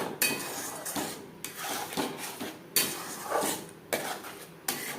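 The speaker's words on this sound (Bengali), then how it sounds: "মশলার সাথে নারকেলের পেস্ট বেশ ভালো করে মিক্স করে দেব" Coconut paste mixed into spices in a pan for prawn malai curry: a metal spatula scrapes and clanks against the pan in repeated strokes, close and fairly quiet, with no voices.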